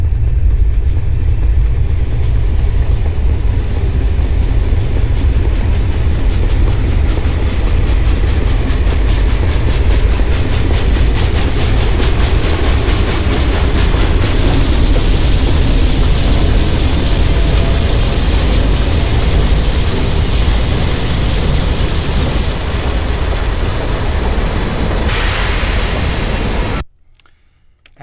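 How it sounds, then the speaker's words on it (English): A train sound effect rumbles past with steady rhythmic clatter of wheels on rails, loud and close throughout, then cuts off abruptly at the end. "so that's the train."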